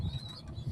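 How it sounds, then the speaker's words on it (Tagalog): Pigeons cooing softly at a short distance, a low, rounded murmur in brief swells. "Ito po yung kalapate."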